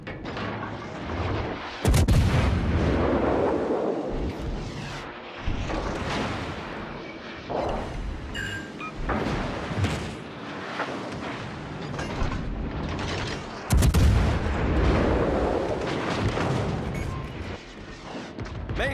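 Warship main guns firing in World of Warships: Legends, heavy booming salvos among continuous mechanical rumble, loud and close, with several sharp reports spaced across the stretch.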